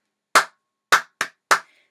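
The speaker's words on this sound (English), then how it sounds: "if I clap this rhythm" Four sharp hand claps ring out close and alone in a short rhythm: one clap, a pause, then three quicker ones, the last with a faint ringing tail.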